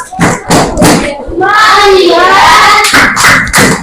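Classroom children doing the tepuk fokus clapping chant, three sharp rhythmic claps followed by the group's sung chant and then more claps, loud and close.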